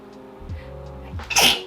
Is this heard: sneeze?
yes